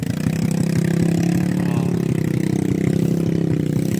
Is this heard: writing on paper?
no